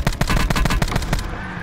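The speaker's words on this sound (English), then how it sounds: "There's another team shooting at them from" Rapid automatic gunfire from an enemy team in Call of Duty Black Ops 4 Blackout, a close, loud string of about a dozen evenly spaced shots that stops abruptly near the end.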